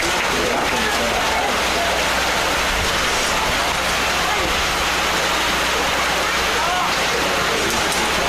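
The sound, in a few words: rain falling on a baseball field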